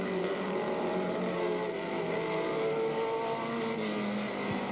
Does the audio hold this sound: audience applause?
no